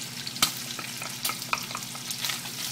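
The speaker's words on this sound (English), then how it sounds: "Sauteing the bacon. It's nice and ready." Shallots and red, yellow and orange peppers sautéing with bacon in a hot pan, a quiet continuous sizzle broken by several scraping stirs and a couple of sharp clacks, close up.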